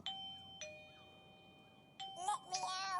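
Chime from a eufy S210 2K battery-powered wireless video doorbell: a few bright ringing dings with lingering tones, a quiet pause, another ding, then a louder burst of talking.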